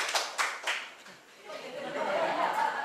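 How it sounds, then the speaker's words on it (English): Teacher-training audience clapping their hands on cue, a few sharp claps early on, then murmuring chatter and light laughter spreading through the room. "I'd like you to clap your hands once."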